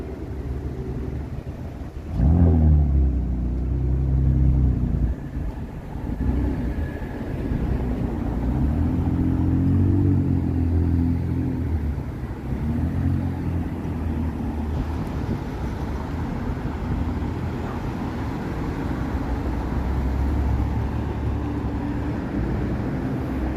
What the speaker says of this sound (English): the traffic is just relentless here